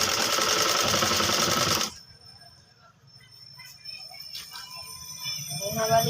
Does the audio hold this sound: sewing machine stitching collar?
yes